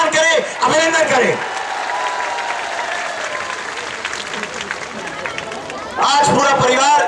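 A crowd at a Hindi political speech gathering breaks into sustained, thunderous applause between bursts of a man's amplified speech.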